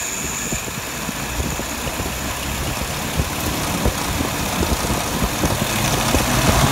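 A car engine runs during a stumble test after a dwell setting of 42 degrees, giving a steady close idle rumble that swells slightly toward the end, with no talking.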